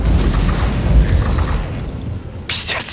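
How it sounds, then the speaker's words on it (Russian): Rumbling explosions and booms in the co-op PC game Warhammer 40,000: Inquisitor - Martyr, a loud continuous low barrage of blasts that fades toward the end before a sharp burst. "Пиздец, взрывы, блядь,"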